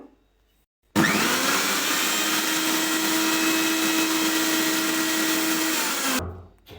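A mixer grinder blends vinegar, salt, sugar and garlic in a closed jar, starting abruptly into a loud, steady, high-pitched whirring roar for about five seconds before winding down.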